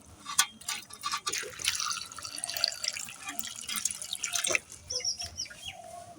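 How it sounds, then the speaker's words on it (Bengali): Tap water runs over cut mango pieces in a soft, continuous rush, with occasional splashes and clatter. A rooster can be heard faintly in the background. "আরেকটু ভালো পানি দিয়ে"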